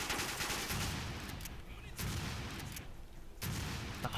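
Repeated gunfire in the video game James Bond: Quantum of Solace, likely shotgun blasts, comes as loud dense bursts with short gaps, close and dominant, with faint talk in the background.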